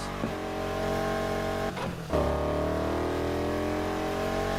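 Car engine revving in the racing game Need for Speed Heat, a steady loud drone that dips briefly, then surges back up as the revs climb and hold, with no talking.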